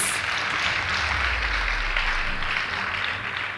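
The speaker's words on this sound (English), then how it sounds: "Please give them a round of applause." A crowd at a school drama competition applauds steadily, a dense wash of many hands clapping at once, sustained and fairly loud throughout.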